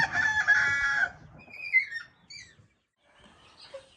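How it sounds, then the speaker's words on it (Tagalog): Gamefowl chickens and chicks on a farm: a loud rooster crow opens, followed by scattered high chirps and peeps from the chicks, with a faint cluck near the end. "So dito naman yung iba nating mga sisiw."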